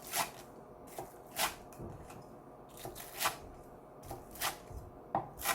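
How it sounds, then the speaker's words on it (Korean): Crisp, crunchy knife cuts through the fried coating of Chinese-style yuringi chicken, a series of sharp crackling chops at an irregular rhythm, close and fairly quiet. "유린기 치킨을 잘라보겠습니다"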